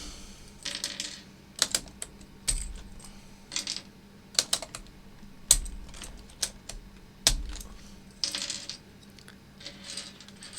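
Keycaps being pried off an HHKB keyboard, heard as a series of sharp plastic clicks and clacks in irregular bursts, some with a dull thump, close and alone.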